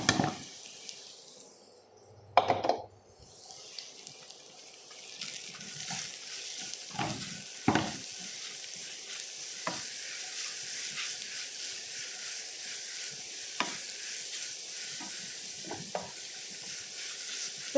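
Carrots tipped into a pan of frying onion and garlic for vegetable pasta, giving a soft, continuous hiss and sizzle broken by a few sharp clatters and scrapes, with no talk.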